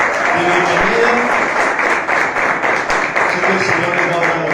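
A church congregation applauds to welcome newcomers during a service, producing a dense, loud, sustained burst of clapping that fills the space from start to finish.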